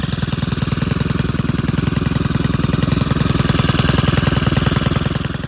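A small gas engine on a landscaping power tool, likely a hedge trimmer used for bush and tree-line trimming, runs steadily and loudly at a constant high idle-to-working pitch with a continuous buzzing rumble and no talk over it.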